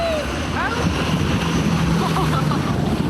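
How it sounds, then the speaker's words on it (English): Wind rushes and buffets past a parasailer rising behind a boat, a steady close roar with faint voices mixed in. "as we get higher, the wind picks up"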